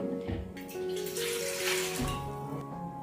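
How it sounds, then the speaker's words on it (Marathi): Water is poured from a bowl into a pot set to heat for rice-flour kurdai, making a soft, steady splashing stream heard fairly faint and close, with no talk over it. "त्याच बाऊलनी 4 बाऊल एवढं पाणी घालते त्याच्यामध्ये"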